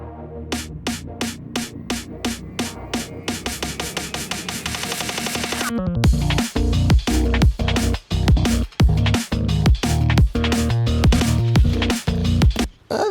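Drum and bass electronic music with a pulsing rhythmic sequence that swells into a dense, wide section of heavy beats and layered synth pads, loud and spacious.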